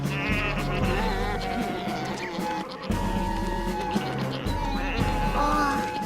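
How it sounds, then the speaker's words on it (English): Cartoon sheep bleat over a busy animated soundtrack with music, the calls loud and steady across the scene. "The sheep don't look very happy, Piggly."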